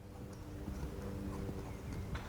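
Horse hooves clip-clop in a steady rhythmic gait during a riding clinic, moderately faint with arena ambience and no talk over it.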